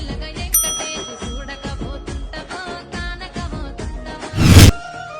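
Bright notification bell chime rings once over busy background music, standing out loudly near the end.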